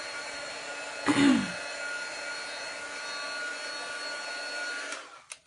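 A dryer blows a steady, even whoosh over chalk paste on a Halloween pumpkin craft. It runs close and constant for several seconds, with a brief louder bump near the start and a cut-off at the end.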